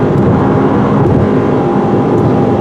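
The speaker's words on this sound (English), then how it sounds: "You get that humming of the CVT," A 2018 Mitsubishi Outlander Sport with a CVT drones loudly from inside the cabin as it accelerates, a steady low humming engine and road noise that holds evenly throughout with no talking.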